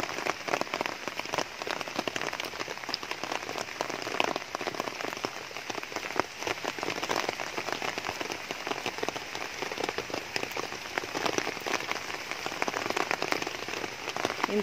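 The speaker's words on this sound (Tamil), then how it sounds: "இங்க கொஞ்சம் மழை பெஞ்சிட்டு இருக்கு," Light drizzle falls outdoors in a garden where greens are being picked, making a continuous soft pattering and crackle of drops on leaves and surfaces, faint and even throughout.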